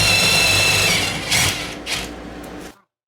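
A hand drill bores a hole while a French cleat wall is mounted without power tools, giving a steady close grinding whir that swells in two brief bursts before stopping abruptly.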